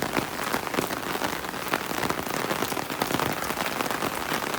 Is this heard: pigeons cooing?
no